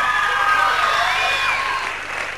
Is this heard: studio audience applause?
yes